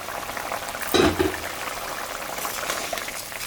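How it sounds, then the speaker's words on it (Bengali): Fish curry broth for a sesame-mustard mrigal fish and brinjal dish comes to a boil in a pot, a soft bubbling simmer with a brief louder burst of bubbling near the middle. "ফুটে গেছে ঝোলটা"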